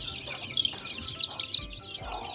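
Several high, thin peeps from young domestic chicks, a few close-spaced calls in a row over quiet background.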